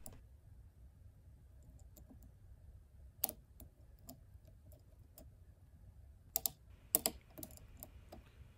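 A lock pick working the pins of a Segal pickproof lock, faint scattered clicks and ticks over quiet background, with a few sharper louder clicks clustered near the end.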